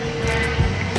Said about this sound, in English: Jetstar's going to have to shoot it down the runway.